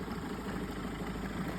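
A boat engine on a Lagoon 440 catamaran idles after starting, a low steady rumbling throb with a faint vibrating pulse, moderately close and without speech.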